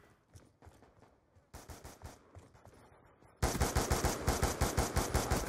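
Gunfire in a first-person shooter video game: rapid repeated shots in bursts, quiet at first and then a sudden louder run of fast regular reports, with no talk.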